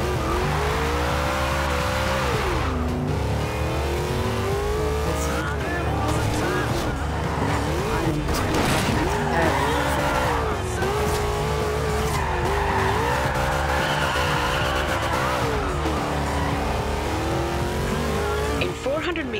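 Race car in Forza 2 roaring and skidding with a continuous loud engine drone, rising and falling revs and long screeching tire squeals, dense and close for the whole stretch.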